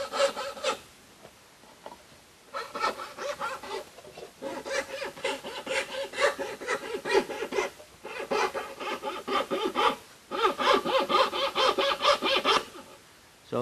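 An antique cutting machine from about 1810 cutting through material in a marquetry-style jigsaw cut, with rapid rhythmic sawing strokes in several sustained bursts separated by brief pauses, close and clear.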